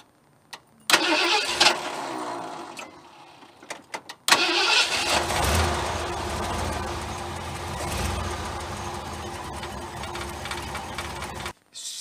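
Car engine cranked using a lithium jump starter: a brief attempt, a pause, then the engine cranks and catches into a steady idle that runs close and continuous before cutting off near the end.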